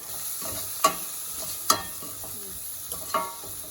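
Onions and tomatoes sautéing in a pan with salt and chili powder for vatha kulambu, a soft steady sizzle broken by a few sharp clacks of a stirring spoon against the pan.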